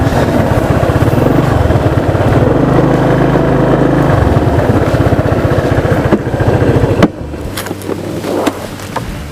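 A loud motorcycle engine running nearby, revving and idling with a rough throbbing rhythm that drops off briefly before picking back up.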